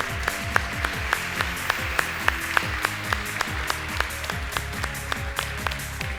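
Audience applause in an Azerbaijani TV game show studio, a steady rhythmic bed of clapping with distinct sharp claps throughout, no speech over it.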